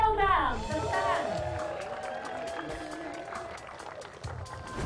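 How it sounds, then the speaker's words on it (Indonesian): A studio crowd at an Indonesian television wedding-giveaway show applauds and cheers continuously at close range, a dense wash of clapping and voices that holds for several seconds before fading a little. "Tepuk tangan."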